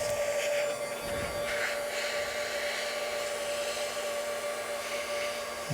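An industrial heat gun rated up to 1,000 degrees blows hot air with a steady, loud whoosh and a constant motor whine throughout, no voices, during teardown of a GM NP8/NP246 transfer case.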